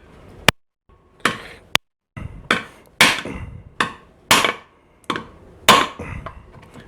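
A special tool is tapped with a hammer to drive out a Lambretta gear cluster outer bearing race, about ten sharp metallic knocks at an uneven, unhurried pace, close and alone.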